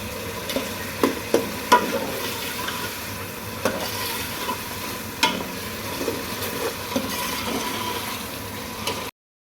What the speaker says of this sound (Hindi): अब मैं इसमें चिकन ऐड कर देती हूँ।